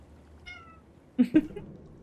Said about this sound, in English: Oh, my little cat is here.